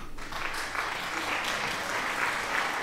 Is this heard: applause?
yes